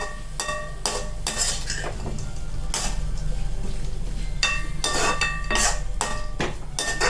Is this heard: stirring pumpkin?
yes